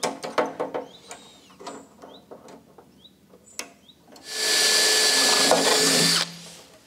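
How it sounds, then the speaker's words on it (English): A drill bores a hole through an aluminium race seat bracket, a loud steady whine lasting about two seconds, preceded by scattered clanks and handling knocks of clamping and positioning. "So I'm just gonna clamp it a little bit in place so I can drill the hole."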